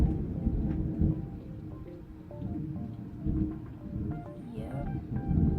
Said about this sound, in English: It just started lightning.